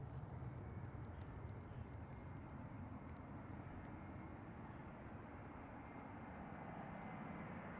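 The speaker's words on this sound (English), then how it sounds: "next A321 is already arriving" Airbus A321 airliner arriving at Zurich Airport, heard as a faint, distant, steady engine rumble and roar that holds evenly from start to finish with no talk.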